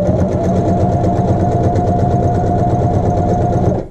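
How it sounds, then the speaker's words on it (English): Sewing machine running an edge stitch along a double patch on a hole sample, a fast, even mechanical hum and needle clatter, close and loud, stopping abruptly at the end. "And we're going to do our edge stitch."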